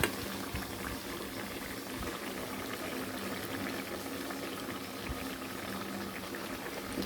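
Okra curry with dried mango powder bubbles in a pan, a steady dense simmer of popping bubbles and hiss, close and even with no talking.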